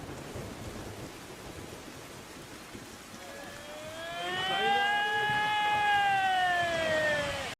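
Heavy rain pours as a steady broadband hiss in Shimla, Himachal Pradesh, swelling louder partway through as a rising, whining tone joins in.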